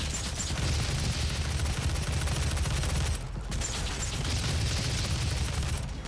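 Gunfire in Doom 2016, loud sustained rapid bursts of shots with mechanical clatter, broken by a brief pause midway before firing resumes.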